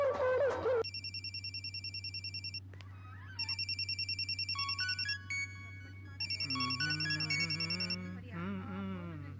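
A mobile phone rings in a Tamil short film, its electronic ringtone sounding in repeated bursts of bright, evenly pulsed tones separated by short pauses over a steady low hum, with brief sounds in between.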